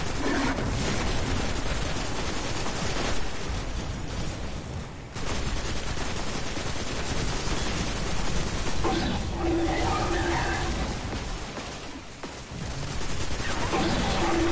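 Sustained automatic rifle fire from the Haakon's Hatchet in the game Destiny, dense, continuous bursts with brief gaps, loud and close throughout.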